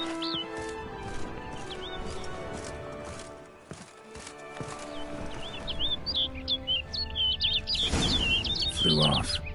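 A bird chirps and tweets in quick, bright calls in The Witcher video game. The calls start faint under ambient sound, then come nearer and denser near the end, mixed with brief clopping and a speaking voice.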